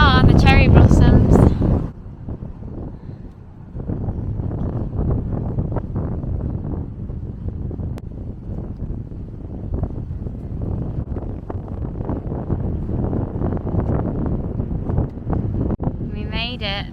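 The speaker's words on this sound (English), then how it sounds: "It's really, really windy" Strong wind buffets the microphone in a steady, heavy roar throughout, outdoors in Washington DC, with a voice heard briefly at the start and end.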